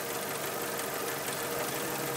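Jeep engine idling with its clutch fan spinning, a steady close rumble and whir with faint knocking texture, brief and without voices.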